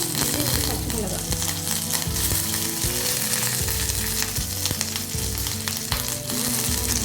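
Loud, steady sizzling of curry leaves and green chillies frying in hot oil, with crackles and pops throughout.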